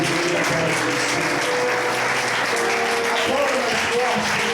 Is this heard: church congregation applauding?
yes